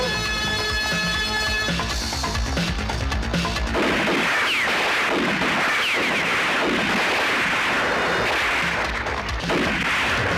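Gunfire erupts in a Hindi action movie scene, dense repeated blasts and crashes laid over loud dramatic music throughout.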